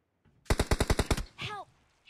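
A quick burst of about eight evenly spaced, loud gunshots in the mobile battle royale game PUBG Mobile, followed by a short voice.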